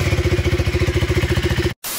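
A motorcycle engine starts up and runs with a rapid, regular low chugging pulse at close range and loud level, then cuts off abruptly near the end before a steady noise returns.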